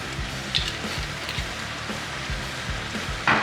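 Orecchiette pasta and sausage sizzle and fry in a hot pan after malt vinegar goes in, a steady close crackling hiss with soft rhythmic stirring scrapes and no voices.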